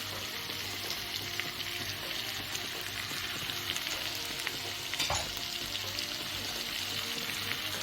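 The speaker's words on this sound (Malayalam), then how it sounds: "എന്നിട്ട് നല്ലപോലെ ഇളക്കി ലോ ഫ്ലെയിമിലായിട്ട് മൂപ്പിച്ചെടുക്കണം." Food fries gently in a pan on a low flame with salt and turmeric added, giving a steady soft sizzle with occasional scraping stirs and one brief louder clink.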